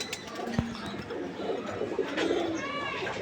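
Silver Giribaz pigeons cooing, soft low coos mixed with a sharp tap and brief higher chirps over a steady background murmur, fairly close.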